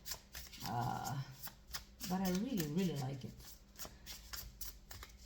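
A tarot card deck being shuffled by hand, with a soft rustling and riffling of cards running under a woman's speech throughout.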